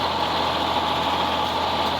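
A tractor engine idles in a hay field during raking, a steady low drone with a constant hum throughout, close by and with no voices over it.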